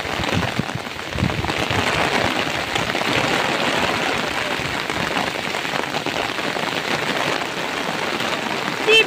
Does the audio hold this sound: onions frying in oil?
no